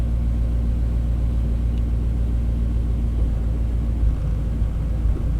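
The engine of a 1991 Chevy K1500 pickup runs rough and stumbles, a loud, close, low rumbling idle with slight uneven dips and wavers and no talking.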